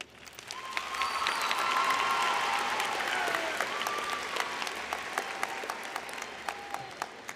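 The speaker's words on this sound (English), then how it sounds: "Please join me in another round of applause for these students." Warm, sustained applause from a crowd at a high school graduation ceremony honoring students, swelling early then holding steady with scattered cheers and whistles.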